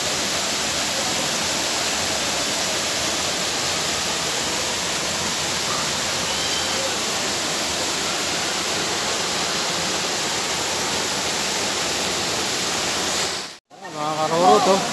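Daranak Falls pours into its lagoon in a loud, steady broadband rush of falling water that fills the whole recording, close by, with a brief dip near the end.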